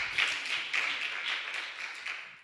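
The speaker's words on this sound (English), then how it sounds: "Somebody give God a hand clap." A church congregation claps together during a service, a soft, steady rhythm of overlapping hand claps that pulses at a moderate pace from a slight distance.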